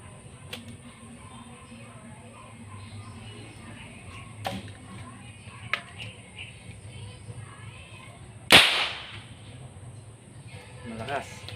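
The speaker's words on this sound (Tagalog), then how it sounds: "Testing natin. Pumuputok na to eh." A homemade PVC toy gun fires once with a sharp, loud pop at close range, standing out over low background hum and faint room noise.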